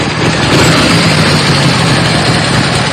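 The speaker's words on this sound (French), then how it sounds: "J'entends comme une moto." A loud, steady motorcycle engine roar fills the whole stretch without pause, close and continuous.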